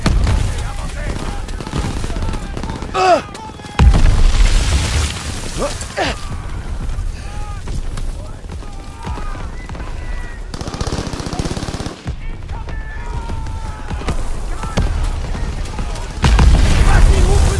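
Call of Duty WWII beach battle: dense machine-gun bursts and heavy booming explosions crackle continuously, with soldiers shouting amid the gunfire.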